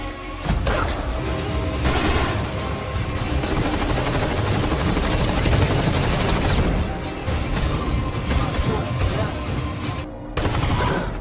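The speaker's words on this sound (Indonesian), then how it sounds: "Miller berkhianat dan terjadilah baku tembak di antara mereka" A dense, continuous burst of gunfire fills a film shootout over a betrayal among armed men, rapid loud shots layered with booms and rumble, near and unrelenting for several seconds before a brief lull and resumption.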